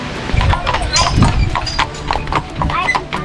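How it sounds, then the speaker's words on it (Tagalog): Hooves of a large horse clip-clopping in an irregular, close, fairly loud rhythm on a hard path near the Partnach gorge in Garmisch-Partenkirchen, with people talking over it. "Laking kabayo."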